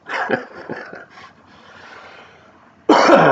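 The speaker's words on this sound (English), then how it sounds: "So sorry I keep coughing." A few rough coughs and throat-clearing sounds at the start, trailing into quiet breathy noise, then a brief loud burst at the end.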